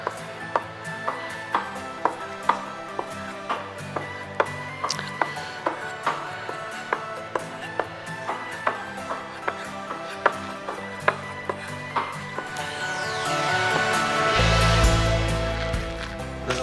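A custom-made kitchen knife chops hard on a board in a stress test, with a steady rhythm of sharp close strikes, then a longer scraping rush near the end and a loud low impact.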